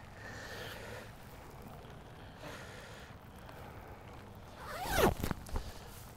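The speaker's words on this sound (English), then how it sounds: "I gotta zip my jacket up" A jacket zipper is pulled up in one quick, close rasping stroke near the end, following several seconds of soft wind noise outdoors on a golf course.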